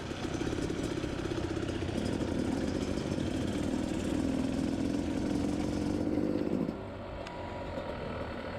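A motorcycle engine idles steadily with a low, even hum while the bike is loaded for a trail ride, running for several seconds before the droning tone drops away into quieter background noise.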